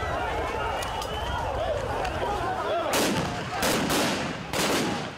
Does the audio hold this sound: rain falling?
no